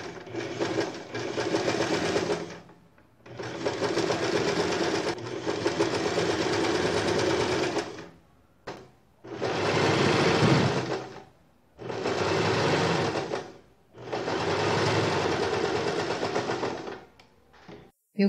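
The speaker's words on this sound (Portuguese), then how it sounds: "É o que eu vou fazer agora, eu vou costurar os ombros e as laterais." A sewing machine stitches the shoulder and side seams of a slippery-fabric blouse with Japanese-style sleeves, running in about five steady whirring bursts separated by short pauses, close and clear with no talk.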